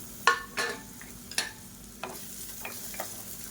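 Sliced onion and garlic sizzle in hot oil in a pan for chutney, with several stirring scrapes and clatters over a quiet, steady frying hiss close to the microphone.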